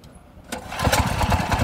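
A power tiller engine starts with a sharp pull and then catches, settling into a loud, rapid, knocking chug close by at a fast steady rhythm.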